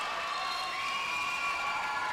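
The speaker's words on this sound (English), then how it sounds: "Crowd now going off in support of Canada." Crowd at a junior roller derby game cheering in support of Canada, a steady wash of distant shouts and whoops sustained throughout, no single voice standing out.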